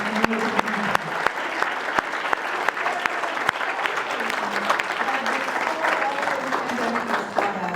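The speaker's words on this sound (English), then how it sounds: "let's give a round of applause" Audience applause at a literature festival discussion, with dense clapping throughout and a few sharp, nearby claps standing out over the steady crowd noise.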